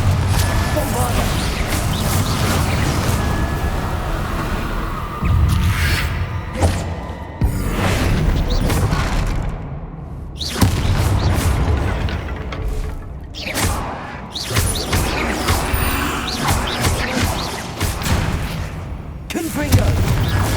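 Bombarda explosion spells in Hogwarts Legacy go off as repeated loud booming blasts and crashing impacts, with brief gaps between bursts amid game sounds and voices.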